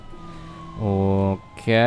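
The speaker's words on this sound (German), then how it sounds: "die hat eine richtig schöne Sirene benutzt diesmal" Police siren in the BeamNG.drive driving game, short loud electronic yelps and wails that start, stop and restart, with a voice speaking briefly before them.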